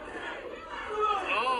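A wrestling crowd at an SWF cruiserweight title match keeps up a steady, loud roar of chanting and cheering, a dense wash of many voices that swells slightly toward the end.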